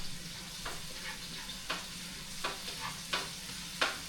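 Garlic and onions sauté in a large caldero pot big enough to feed thirty or forty people, a soft constant sizzle broken by about six scraping stirs spaced roughly evenly, quiet and close.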